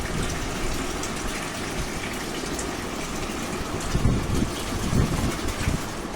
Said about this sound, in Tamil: நாலு கூட ஊற்றிக்கிட்டோம் பார்த்தீங்கன்னா அரை குடம் தான் ஊற்ற போகிறேன்